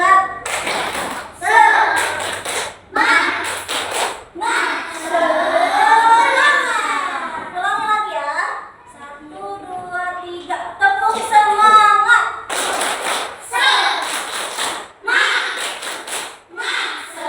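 Schoolchildren in an elementary classroom perform the rhythmic 'tepuk semangat' clap in bursts of patterned hand claps, broken by pauses where voices chant and talk.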